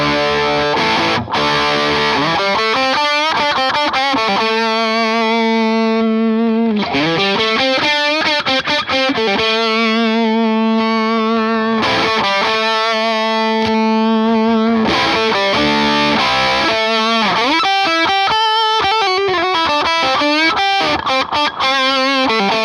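Electric guitar run through a Boss distortion pedal, heard at several tone control settings: thick, saturated sustained chords and riffs, loud and continuous without talk.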